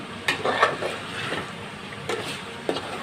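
Meat and potatoes stir-fried in a pot, with intermittent utensil scrapes and light clinks over a low, steady background of cooking.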